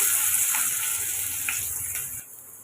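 Onions tipped into hot oil with fried fennel seeds, giving a bright, hissing sizzle that is loud at first and gradually eases, close up with a few small stirring sounds and no speech.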